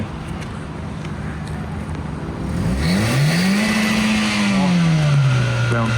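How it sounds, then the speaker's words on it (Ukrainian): A Hyundai Getz or Kia Ceed car engine idles with a rough rumble, then revs up to around 4000-5000 rpm with a rising whine that holds and slowly eases, loud and close. "А можете трошки газнути"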